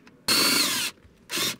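A power screwdriver whirs in two short bursts, the first longer than the second, while undoing console screws inside a BMW 330i; close and loud in a quiet car interior.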